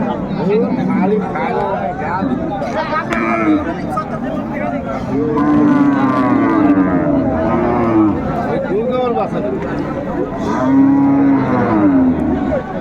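Cows and calves at a busy rural cattle market lowing repeatedly, loud and close, long drawn moos overlapping with chatter and crowd murmur throughout.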